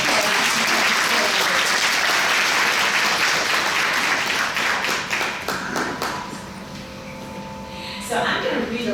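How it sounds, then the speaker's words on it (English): Dense applause fills a school board meeting room for a kindergarten student, loud and sustained for several seconds before thinning out, with a few voices speaking over it. "Let's give Serenity a round of applause"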